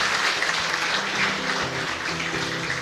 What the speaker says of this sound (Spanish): Y un fuerte aplauso entonces para todos nosotros.